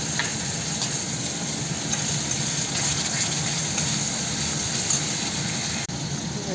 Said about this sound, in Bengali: জল ঢেলে দিলাম পরিমাণ মতো।